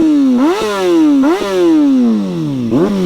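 A motorcycle with a newly fitted exhaust is revved several times, each blip rising sharply then falling slowly, loud and close with a deep rasping tone and no talking.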